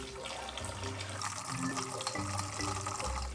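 Water runs and splashes steadily as it is poured into a bowl for dogs, a continuous gurgling fill lasting a few seconds with shifting pitch, close and moderately loud.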